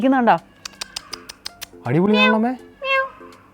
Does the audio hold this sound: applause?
no